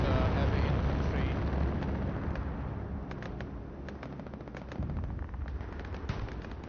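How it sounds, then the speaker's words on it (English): Explosions and gunfire rumble through a video game tank battle, a dense, continuous roar of blasts with sharp cracks scattered through it, loud and sustained throughout. "So some explosions."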